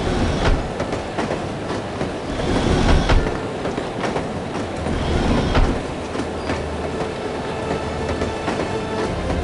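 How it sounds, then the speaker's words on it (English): A train in the video game No One Lives Forever rumbles along with rhythmic clattering wheels and occasional squeals, steady and loud like riding aboard. "I love riding the train."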